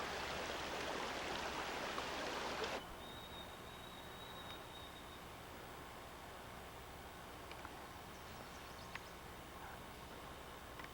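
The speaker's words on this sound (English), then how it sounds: "nice and quiet, except for the water" Flowing water near a quiet, secluded campsite by an old logging trail, a soft steady rush that is louder at first and then drops to a faint hiss, with a few small clicks.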